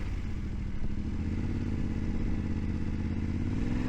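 Motorcycle with a cold, clunky clutch idles and rumbles steadily at a campsite on a cool morning, a constant low engine drone with occasional clatter and thumps close by.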